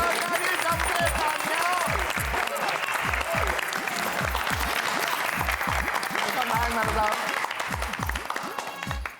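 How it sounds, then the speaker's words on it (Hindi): Loud, sustained audience applause fills the whole stretch at a surprise party in a Gokuldham housing society, with steady dense clapping and rhythmic low thumps from music or beats underneath, plus a faint voice mixed in. "आपके इस उपलब्धि के लिए एक बार फिर से जोरदार ताली।"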